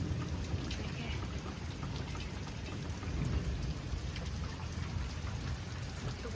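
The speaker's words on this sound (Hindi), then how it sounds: "आगे बहुत तेज बारिश हो रही है।" Heavy rain pours steadily over a village, a dense, continuous hiss and patter close by with a low rumble of thunder underneath, unbroken for the whole stretch and with no voices.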